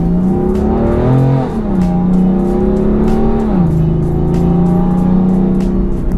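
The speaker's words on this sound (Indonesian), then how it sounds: "Tapi downshift-nya enak nih, kalian harus denger nih." Exhaust of a modified BMW M4 on downshifts, a loud, close droning roar that drops and climbs in pitch as the revs change, with crackling pops over it and no talking.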